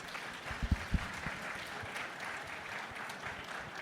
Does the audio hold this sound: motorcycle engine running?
no